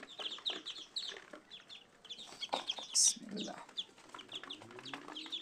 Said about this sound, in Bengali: চীনা হাঁসে বাচ্চা বের হয়েছে।